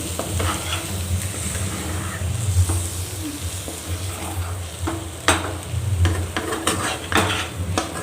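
Prawn fry sizzling steadily in oil in a pan while a spoon stirs it, with scattered scraping and clinking strikes against the metal, close and fairly loud.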